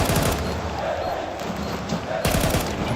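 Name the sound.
gunfire in Counter-Strike 2 video game match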